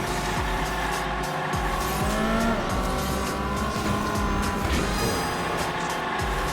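Toy car sliding and skidding off the track in Hot Wheels Unleashed, a loud continuous racing engine whine with squealing tire slides over a dense game soundtrack.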